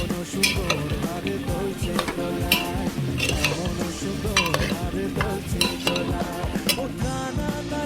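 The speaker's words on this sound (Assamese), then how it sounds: "কাবুলী বুটখিনি মই ইয়াত গোটেই দি দিছোঁ আৰু এইখিনি ভালকৈ মিক্স কৰি ল'ম" Chickpeas are stirred and scraped around a hot pan for ghugni, with a steady sizzle beneath repeated utensil clinks and scrapes that continue throughout.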